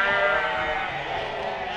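Flock of about 160 ewes on a farm at lamb weaning, bleating loudly and close, overlapping calls forming a continuous chorus with no talk.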